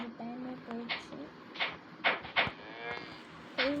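Cow mooing in short bursts, mixed with several sharp knocks and clatters and some talking, moderately near.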